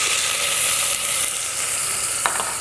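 Onions and pepper mix for a three-bean chili sizzling in hot oil, a loud, steady frying hiss right up close with a brief stirring scrape near the end and no voices.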